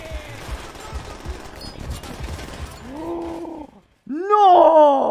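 Gunfire in Call of Duty: World at War, a short rattle of shots for about three seconds under the mix, then a brief silence and a loud burst of shouting and strained cries.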